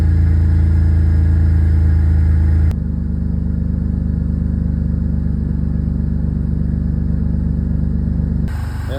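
An old car's 3-liter engine runs after a cold start, a loud, steady, rumbling idle close by that drops slightly in level partway through and then rises again near the end.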